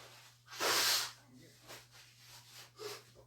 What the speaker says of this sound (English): I'm going to blow my nose just so I don't have to keep sniffling during it.